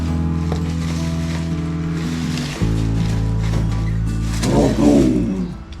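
A Polaris RZR Pro XP fitted with an RPM E-Valve electronic exhaust idles with a loud, steady low rumble close by. The engine note drops partway through, then swells in a brief rev near the end.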